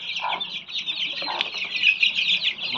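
Bhimavaram breed chicks cluck and peep continuously at close range, a busy, high chatter of several birds with no voices.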